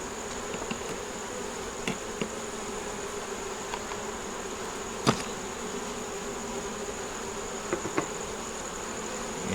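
Honeybees at a full backyard hive during a honey flow: a continuous, dense buzzing drone close by, with occasional faint clicks and taps and no talking.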